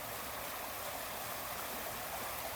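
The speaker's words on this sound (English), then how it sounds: "So right now I'm next to a water." Water of a stream flows steadily close by outdoors, a dense continuous rushing and gurgling wash with no pauses or voices.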